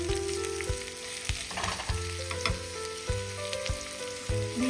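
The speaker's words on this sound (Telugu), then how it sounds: "ఆనియన్స్ ఫ్రై అవుతున్నాయండి" Sliced onions and green chillies sizzle steadily in a hot pan of oil for mutton biryani, with a dense constant crackle and occasional stirring clicks, close up, with no voices.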